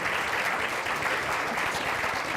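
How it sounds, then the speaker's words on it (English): A conference audience applauds with dense, steady clapping for a couple of seconds, close and sustained, with no talk over it. "Please give them a round of applause."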